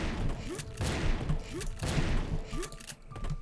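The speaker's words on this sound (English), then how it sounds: "I'm just going to use my shotgun" Shotgun blasts in the video game Turok 3 boom out in a string of about four heavy reports spaced under a second apart, each with a short rumbling tail, loud and close.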